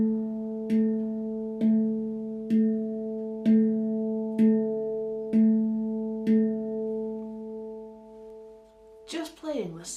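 Handpan's lowest note struck with the thumbs, seven even, resonant hits in a slow steady pulse, each ringing with a warm overtone, alternating hands; a voice begins speaking at the end.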